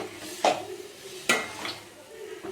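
Mint chutney ingredients sautéing in sesame oil, a low continuous sizzle broken by a few sharp clinks of a spoon against the pan.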